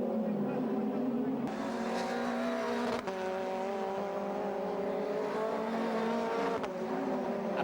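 Formula Renault race cars race at the Lédenon circuit, loud engines whining and shifting through gears close by, with a French commentator talking over the noise.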